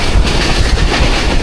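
The 18 Down Millat Express train rushing through a station at speed, a loud, steady roar of wheels and wind with faint rhythmic rail clatter throughout.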